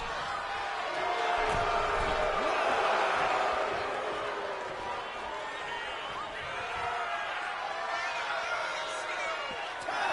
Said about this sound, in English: The crowd is booing. Everyone is booing.